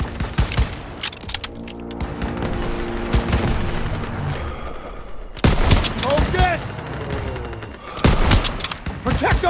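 Sustained gunfire from Call of Duty: WWII, rattling bursts and thudding impacts throughout, with a sharper volley near the middle and another near the end, voices mixed in under the shooting.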